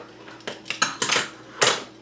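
Beef broth being stirred into a braising pot of short ribs, heard as a few close metal clinks and scrapes of a utensil against the pot over about two seconds.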